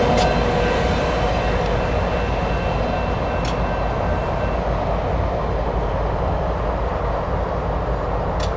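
A BNSF ES44AC diesel locomotive train rolls past in the Spokane Valley, Washington, a loud steady rumble of wheels and cars close by with brief squeals, and no one speaking.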